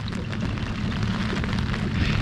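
Rain falling during kayak fishing on a canal, a loud, continuous broadband roar and patter of heavy rain close around, with no voices.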